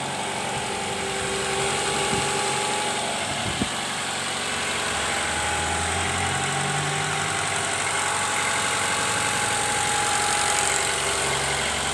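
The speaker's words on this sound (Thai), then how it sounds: "เครื่องก็ดีครับ เครื่องไม่ไอเลยนะครับ เครื่องนิ่ง เครื่องนิ่งไม่สะดุดเลยนะครับ" A used car's engine idles smoothly and evenly, a steady close-up mechanical hum with no stumbles or misfires throughout.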